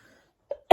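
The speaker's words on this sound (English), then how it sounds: "I'm trying to keep myself from coughing." A single sharp cough bursts out at the very end, preceded by a faint throat sound, otherwise near silence.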